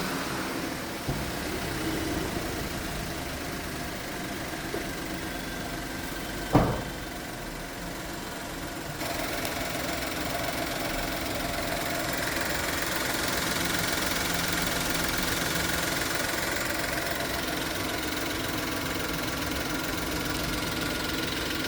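A Maruti Alto K10 three-cylinder car engine cranks with a brief sharp start, then settles into a steady, low idle with a slight shaky vibration, continuous and fairly close.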